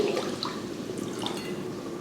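Water pours from a jug in a steady, continuous gush, close by and fairly loud, with a watery splashing texture throughout.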